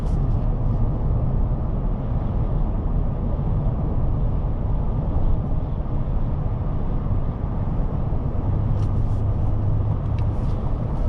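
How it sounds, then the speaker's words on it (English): Steady low road and engine rumble inside a 2025 GMC Yukon XL AT4 cruising at about 70 mph on the highway, a constant even drone with faint wind hiss and no talking. "So going about 70 miles per hour here. Not a lot of road noise. Definitely a great highway driving experience."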